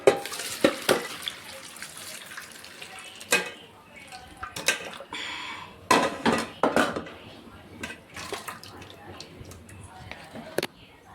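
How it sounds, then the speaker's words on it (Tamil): Cooked chicken pieces being drained of water for a cumin chicken gravy, giving splashy water and clattering pot and utensil knocks in uneven bursts, close by with some background noise. "தண்ணியை வடிகட்டி எடுத்துக்கலாம்."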